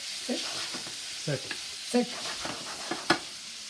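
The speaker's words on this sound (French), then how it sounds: "Si debemos saltear las gambas muy tranquilamente." Shrimp sautéing gently in a pan, a steady quiet sizzle broken by several light scrapes and taps of a utensil stirring close by.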